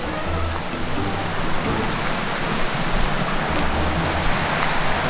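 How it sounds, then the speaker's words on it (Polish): A mountain river on the trail up Giewont in the Tatras rushes steadily and loudly close by, a dense unbroken roar of water filling the whole clip with no voices. "Pierwsza poważniejsza rzeka na trasie Giewont."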